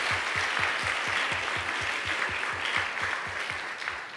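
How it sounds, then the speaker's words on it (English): Audience clapping at a gender summit breakout session, a steady rhythmic round of applause from a small group, moderately distant and continuous. "Let's give them a round of applause."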